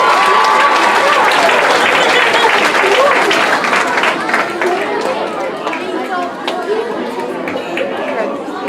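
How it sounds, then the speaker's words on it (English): Sustained, loud applause from a school audience for nominated fourth graders at an awards ceremony, with dense clapping and crowd chatter throughout, tapering slightly toward the end. "Let's give them a round of applause in their paparazzi moment."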